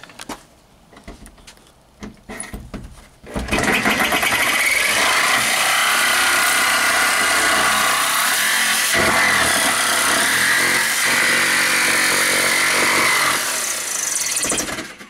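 A few short knocks and taps, then a loud power tool roars to life and grinds steadily through material, cutting a hole in a garage paint booth for about ten seconds, harsh and close.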